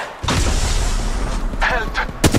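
Gunfire in the mobile battle royale game Apex Legends Mobile, with a dense, loud rattle of shots and booming impacts running almost continuously, plus later bursts and effects mixed into the clash.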